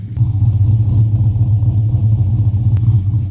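Holden VS Statesman SS with a cammed LS V8 and rear exhaust section fitted idles with a deep, lumpy, loping rumble, steady and close with a rhythmic choppy pulse.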